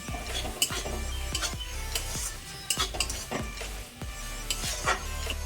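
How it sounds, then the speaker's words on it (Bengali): A spice paste of chili powder and turmeric is stirred and sautéed in a pan for a fish curry with taro and potato, with a steady soft sizzle and repeated scrapes and clinks of a spatula against the metal. "হলুদ গুঁড়ো, মশলাটাকে একটু কষিয়ে নেব।"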